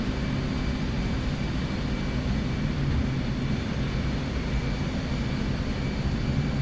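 An F/A-18C jet on short final in DCS gives a steady, loud engine roar and whine, an unbroken drone holding level throughout.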